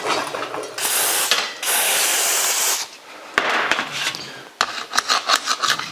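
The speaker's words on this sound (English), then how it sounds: "We're going to spray it up." Aerosol lubricant is sprayed onto a stubborn chrome trim anchor on a 1949 Chevrolet gasser: several close, loud hissing bursts, followed by rattling and scraping as the part is worked loose.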